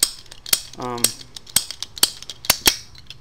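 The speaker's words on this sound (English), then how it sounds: "It's just a ratcheting cutter." A cheap Harbor Freight ratcheting cutter clicks through its ratchet in a row of sharp, close snaps and crisp metallic clicks, with one brief buzzy rattle in between.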